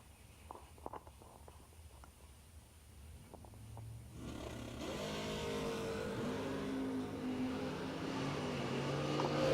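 Drag racing launch of an S10 and a Corvette Roadster at the SFG Half Million event, with quiet crowd rumble and faint clicks giving way after about four seconds to loud, sustained engine roar that rises in pitch as the cars accelerate away.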